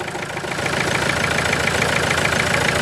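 A Renault Duster engine idles with the bonnet open, running steadily with a rhythmic low rumble and ticking; the engine is weak, burning oil and lacking pickup. The sound is loud and close, with no voices.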